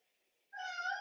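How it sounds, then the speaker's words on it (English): A house cat gives a single clear, drawn-out meow, close and fairly loud, breaking a near-silent moment during an indoor yoga session. "Such a needy cat."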